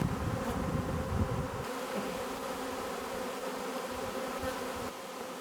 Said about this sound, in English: I see evidence of the bees starting to fan their butts